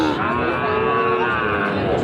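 A Sahiwal calf lets out one long, loud moo close by, filling about two seconds with a steady, droning bellow.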